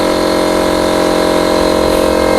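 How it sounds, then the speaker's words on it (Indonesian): An air compressor runs in a motorcycle garage, giving a loud, steady mechanical drone with a constant pumping hum throughout and no voices. "Tuh kompresornya udah bunyi."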